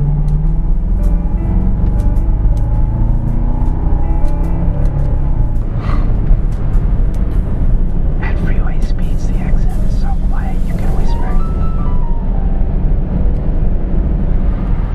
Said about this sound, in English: Jeeves, won't you hold my tea while I get on the freeway?